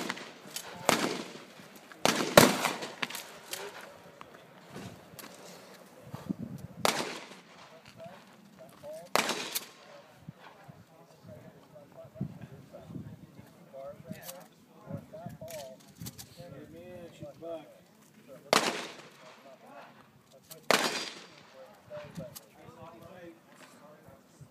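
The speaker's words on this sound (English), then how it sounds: "All these slugs are shooting high." Shotgun firing slugs at an outdoor practice range, several sharp loud reports spaced irregularly across the stretch, with people talking between shots.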